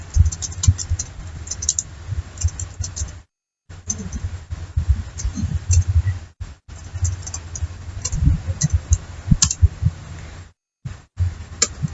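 Someone types a command on a computer keyboard in a command prompt to install OpenCV: a steady patter of close, crisp key clicks, broken by a few short silent gaps.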